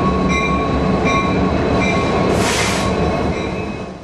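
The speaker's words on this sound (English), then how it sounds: "This freight train is being pulled through Eugene, Oregon by locomotives." A freight train pulled by diesel-electric locomotives rumbles past close by in Eugene, Oregon, the engines grinding steadily with faint metallic tones, the noise fading slightly at the end.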